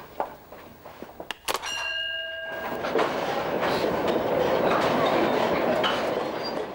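Miners' train carrying workers to the coalface deep in the Vorkuta coal mine, starting with a few sharp clanks and a brief tonal squeal, then a steady loud rumble and rattle of wagons rolling along the track.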